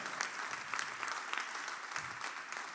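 Steady, enthusiastic applause from a church congregation fills the clip, dense clapping that carries on throughout with no pauses.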